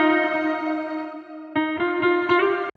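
A sustained, tonal guitar note rings out with a filtered, narrowed sound from high and low cuts applied in FL Studio, followed by several rhythmic plucked notes before cutting off abruptly.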